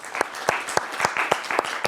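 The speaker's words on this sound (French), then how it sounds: "je crois qu'on peut t'applaudir" Audience applause at the closing of a conference session, loose rhythmic clapping from a crowd, steady and moderately loud for the whole moment.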